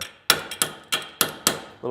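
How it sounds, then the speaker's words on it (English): A brass hammer taps a wrench in five sharp, ringing metallic strikes spaced roughly a third of a second apart, each decaying quickly, close and clear, followed by a brief low murmur. "you can take a brass hammer"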